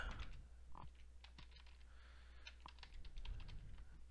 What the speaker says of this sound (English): I will type it in if it allows me to type